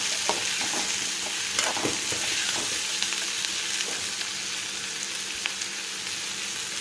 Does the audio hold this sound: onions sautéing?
yes